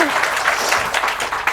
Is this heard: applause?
yes